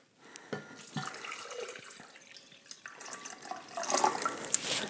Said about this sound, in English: 3 cups of water into the blender